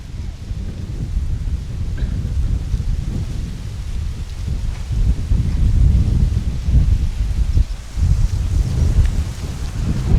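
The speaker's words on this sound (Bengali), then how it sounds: "কি সুন্দর বাতাস।" Wind gusts through a village during the rainy season, a low, rumbling buffeting that rises and falls unevenly across the whole stretch, loud and close against the microphone.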